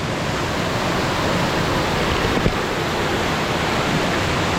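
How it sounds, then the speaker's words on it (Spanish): Waterfalls at Las 7 Cascadas in Juayúa, El Salvador, give off a dense, constant roar of falling water. The rushing wash is loud and even throughout, with no voices over it. "Estamos en el sitio Las 7 Cascadas."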